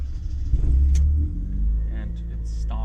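A 1992 Fiat Cinquecento with a 900 engine cranks and fires up with a brief burst, then settles into a steady low idle rumble, heard close with a voice talking over it.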